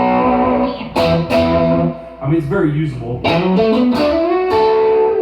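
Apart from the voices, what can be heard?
guitar through Boss GT-1 JCM 800 amp model with reverb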